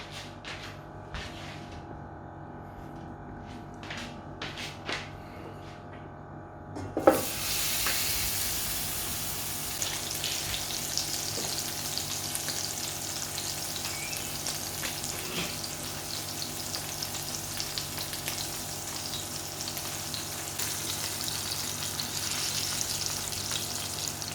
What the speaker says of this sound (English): I'm just going to sear it all in before I put it into the slow cooker